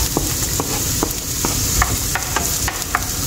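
Onions frying in a pan for pancit canton, a dense, loud sizzle with sharp spatula scrapes and taps recurring about every half second.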